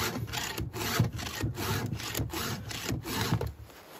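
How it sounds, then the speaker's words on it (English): A round file rasping across a chainsaw chain tooth, sharpening it in repeated strokes, about eight rhythmic scrapes, close and loud with no talk. "it's sharpened this tooth and flattened the raker here"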